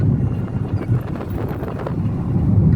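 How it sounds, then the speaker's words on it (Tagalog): Strong wind rumbles outdoors, a steady low buffeting roar battering the microphone throughout with no clear voices. "Lakas ang hangin ngayon sa ano,"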